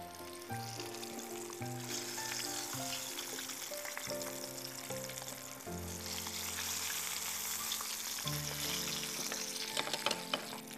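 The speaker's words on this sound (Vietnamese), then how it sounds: "Sẽ thả miếng đậu hũ vào để chiên." Battered tofu fries in oil with a steady, close sizzle, set under continuous background music with shifting tones throughout.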